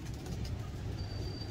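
Low, throaty cooing from a flock of fancy pigeons at a Lahore loft, continuous and close, set against a dull background rumble with a faint thin whistle partway through.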